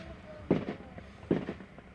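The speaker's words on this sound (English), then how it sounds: "I hope for grand finales with fireworks going all over the place." Fireworks burst at a fairground show, with two booming explosions about a second apart, each followed by a crackling tail, heard from a moderate distance.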